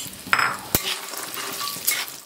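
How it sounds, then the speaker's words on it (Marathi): Walnuts roasting in ghee and stirred for a sugar-free dry fruit ladoo, a low sizzle with a few sharp clinks and scrapes of a spoon against the pan, close and brief. "अक्रोडला पण चांगलं भाजून घ्यायचं"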